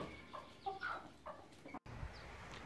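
Chickens cluck in short, soft bursts at close range, several calls scattered over a few seconds against a quiet background.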